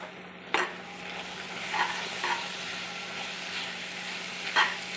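Grated coconut is mixed with jaggery water in a pan for turmeric-leaf kadubu and stirred over a low sizzle, with a few sharp scrape and tap sounds against the pan and no talking.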